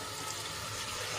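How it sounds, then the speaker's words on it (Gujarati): A short, steady splash of water pours into masala gravy in a cooking pot, close and brief. "તો હવે એમાં આપણે પાણી એડ કરીશું."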